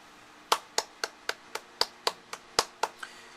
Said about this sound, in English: he deserves my applause